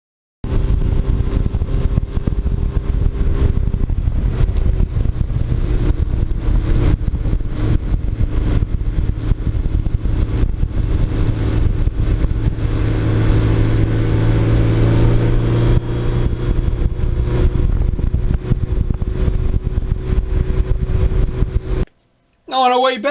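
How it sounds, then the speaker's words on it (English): A 1985 Yamaha RZ350 two-stroke motorcycle being ridden, its engine droning continuously under heavy wind roar for about twenty seconds before a brief drop-out, with speech partly over it. "I was trying to capture the sound of the RZ because in real life you can hear this"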